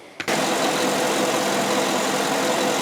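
Chevy GMC car engine, with cleaner being run through it during a service, running steadily at idle after a short start-up burst, close and loud with a constant mid-pitched hum and no speech.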